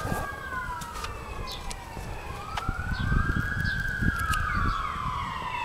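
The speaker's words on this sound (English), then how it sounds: "There goes the ambulance" An ambulance siren wails past outdoors, its rising and falling tone sweeping by over steady road noise and wind, loud and fairly close, with no talking.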